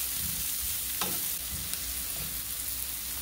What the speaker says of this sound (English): we're going to add in the white onion. We're going to stir this until it turns translucent